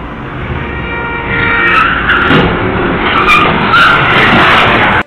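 A car skids with a sustained, loud screech during a violent road crash in front of a college, the tire noise swelling from about a second in and holding steady until an abrupt cutoff, with no voices.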